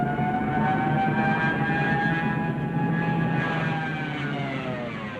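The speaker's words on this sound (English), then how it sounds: "There's also this terrifying siren noise." A dive bomber's loud, sustained rising-and-falling siren wail with several harmonic tones, mixed with a heavy engine roar, fading slightly toward the end.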